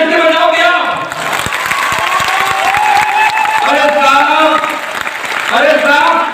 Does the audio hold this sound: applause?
yes